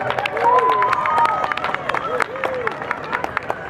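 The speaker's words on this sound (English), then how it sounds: "Give them a big round of applause, ladies and gentlemen." An audience applauds hypnosis show volunteers at a Harvest Moon Festival comedy show, with clapping and some cheering spread through the crowd amid voices and crowd noise.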